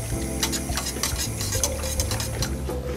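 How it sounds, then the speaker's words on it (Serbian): A spoon stirs beet soup in a cooking pot, giving quick repeated scrapes and light metallic clinks over a steady low kitchen hum. "Promešati, sačekat ću da prokuva."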